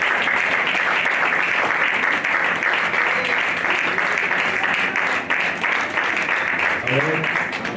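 A church congregation claps together in sustained, dense applause that fills the space, loud and continuous with voices mixed in under the clapping.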